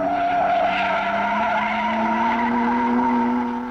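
A 1953 Alfa Romeo race car on the Mille Miglia road race roars close by, its engine note steady and rising slightly in pitch, loud and alone without voices.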